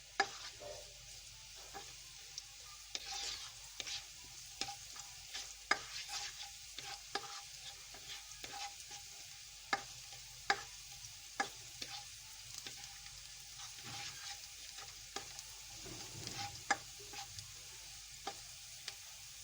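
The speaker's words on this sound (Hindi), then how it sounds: "ये एक कढ़ाई में मैंने थोड़ा सा ऑयल लिया है और लहसुन अदरक डाल दिया है मैंने चॉप किए हुए।" Chopped garlic and ginger fry in a little oil in a kadhai, a faint steady sizzle broken by regular sharp clicks and scrapes of a stirring spoon against the metal, close and alone.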